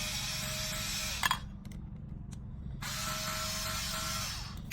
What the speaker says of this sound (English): Little electric screwdriver comes in handy when you're taking these apart.